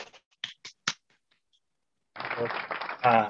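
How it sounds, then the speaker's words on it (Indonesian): A few scattered claps for the presenter Rai at the close of a vaccine diplomacy discussion; a handful of sharp, separate hand claps ring out, then a pause before a person starts speaking. "Mungkin kita bisa kasih tepuk tangan untuk Rai."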